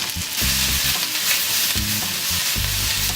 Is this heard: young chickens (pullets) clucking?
no